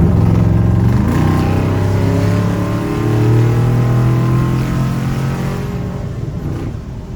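An iron-block, iron-headed 6-liter V8 in a square body Chevy truck runs loud and close, holding a steady deep rumble with a rise in revs near the start, then settling and easing slightly toward the end.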